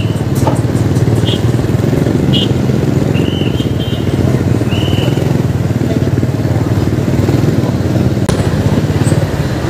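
A motorcycle turns around on a busy road by the NLEX connector viaduct at the New Santa Mesa Interchange, its engine a steady mid-pitched drone blended into loud, continuous traffic roar.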